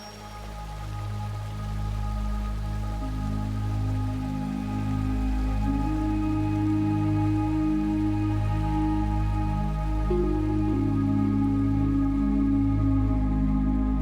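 Steady patter of monsoon raindrops in the Mukundara forest valley of Rajasthan under a low, sustained hum, continuous and fairly even throughout with no voices.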